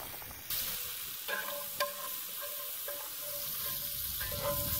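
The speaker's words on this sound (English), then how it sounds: "Just going to dump them in the bacon grease. Let them saute for about maybe 2 or 3 minutes" Onions sizzle steadily in hot bacon grease in a pan, a close, soft crackling hiss broken by a few clinks and stirring knocks. No one speaks.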